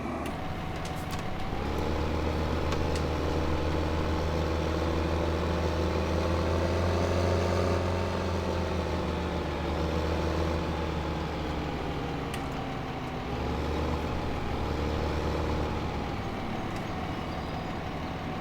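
A tractor engine in the Farming Simulator 2015 game runs steadily at close range, a low droning hum that rises and falls slightly in pitch across the whole stretch, with no talking over it.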